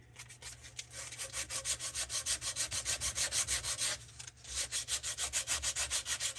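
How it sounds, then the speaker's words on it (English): Hand sanding with 100 grit sandpaper, a close, rapid run of even back-and-forth rasping strokes that stops briefly near the middle before the rhythm resumes, with no talking. "Like as I'm doing this, because this is 100 grit"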